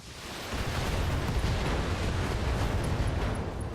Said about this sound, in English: Ooh, double ammo explosion.